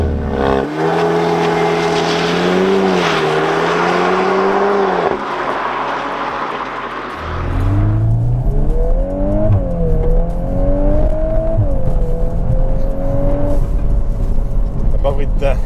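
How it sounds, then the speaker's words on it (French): A 2022 Volkswagen Golf R with all-wheel drive accelerates hard, its engine note climbing through several rising upshifts, loud and close from inside the car. "On va tester l'accélération avec la Volkswagen Golf R."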